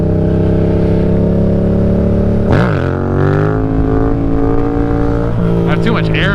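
A modified motorcycle in need of a tune makes a second gear pull, its engine droning loud and close with a rising rev and wind buffeting, while a rider's voice is heard over it.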